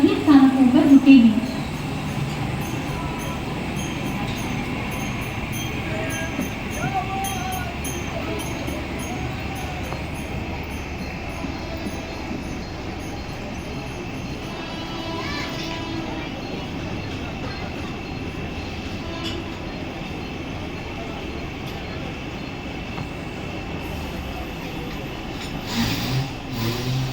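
A Mumbai suburban local train idles and rumbles at a station platform, a steady mid-level rail drone with crowd murmur and a platform announcement voice running over it throughout.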